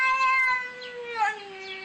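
A cat gives a long, drawn-out meow with a falling pitch, sustained and close, alone with no talk over it.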